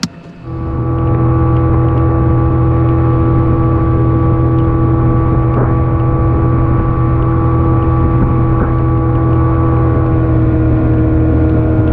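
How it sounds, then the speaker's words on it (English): A motorboat engine on a Wisconsin lake starts with a brief sputter, then settles into a loud, steady drone that runs on without pause. "fire up the boat and quick head back before the rain starts up again"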